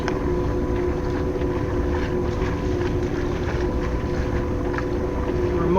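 A sailboat motor sailing under engine power near a bridge on the way from Hamilton to Toronto, a steady low engine drone mixed with rushing wind and water, constant and close, with no clear talk.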